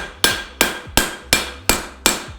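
A blacksmith hammers a horseshoe clip on the face of an anvil, six evenly spaced, ringing metallic blows in a steady rhythm, loud and close with no talk.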